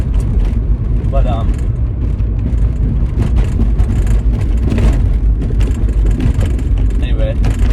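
A car drives in traffic with a steady, loud road and engine rumble heard from inside the vehicle throughout, and faint higher noises now and then.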